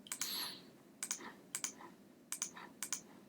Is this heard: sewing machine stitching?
no